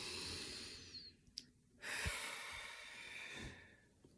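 Soft, close breathing during a relaxation exercise: a slow inhale, a brief pause, then a longer deep breath drawn in and released, all quiet with no speech.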